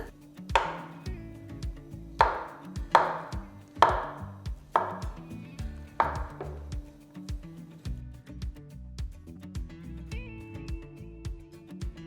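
A knife slicing mushrooms on a board in a handful of sharp, evenly spaced strokes, then quieter cuts over a background of soft music.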